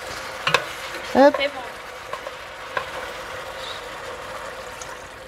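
Veal in a hot pan deglazed with a splash of water for blanquette, giving a steady close sizzle with stirring scrapes and a brief sharp hiss as the liquid hits, while a voice briefly calls out.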